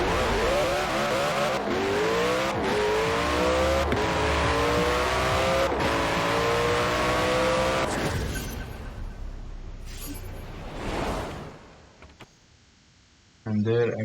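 A 2020 Koenigsegg Jesko with a basic drag tune and drag tires launches in Forza Horizon 4, its engine screaming up through several rising gear shifts before the roar drops away into quieter whooshes.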